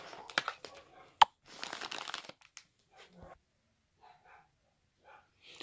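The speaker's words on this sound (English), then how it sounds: "Bonsai is going crazy because somebody just came to the door." A dog barks in a few sharp bursts at someone arriving at the door, fairly close indoors, mixed with crinkling and rustling handling noise before quieter scattered sounds.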